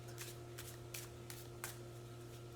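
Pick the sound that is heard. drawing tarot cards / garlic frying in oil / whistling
drawing tarot cards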